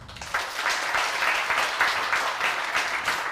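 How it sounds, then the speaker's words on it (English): A demo day audience applauds in a sustained burst of many hands clapping, fairly close and with no talk over it. "So please, a little bit of applause to our Pexera guys."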